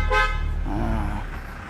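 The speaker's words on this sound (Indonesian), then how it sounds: "Klakson." A Toyota Hiace horn honks once, loud and close, a short buzzy blare that fades into low engine rumble.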